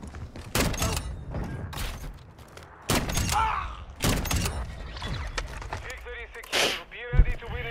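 Sniper rifle shots crack out in a video game, several sharp loud reports spaced irregularly among other game noise, with voices talking between them.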